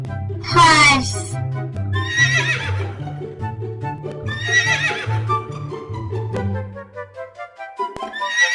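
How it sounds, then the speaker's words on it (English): A horse gives a sharp, high whinny up close, followed by a couple of further neighs laid over steady background music. "Horse."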